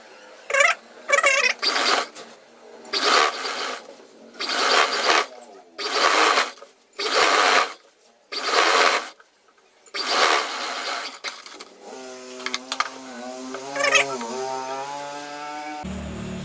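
A sewing machine stitches the side seam of an Assamese mekhela chador in repeated whirring bursts with short pauses between them, then a final longer run.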